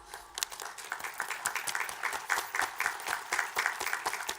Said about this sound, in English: let's end with another great round of applause